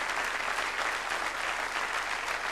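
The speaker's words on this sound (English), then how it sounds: "Sid, give him a round of applause, Sidney." Steady audience applause at a live stand-up comedy show, a dense continuous patter of many hands at moderate distance, unbroken throughout.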